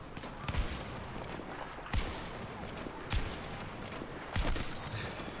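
Gunfire rings out in a shooter video game as four sharp shots spaced a second or more apart, heard over busy game ambience.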